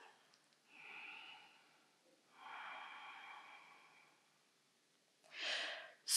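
Deep breaths during a power yoga flow: slow audible inhales and exhales through the nose, three close, soft breaths separated by quiet pauses, with no talking.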